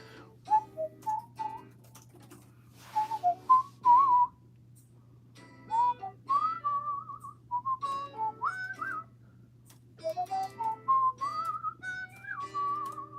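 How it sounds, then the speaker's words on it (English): A person whistles a wandering melody in short phrases, loud and close, with pauses between runs, over a steady low hum at a card-opening stream. "Stop whistling."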